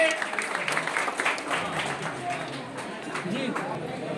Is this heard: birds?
no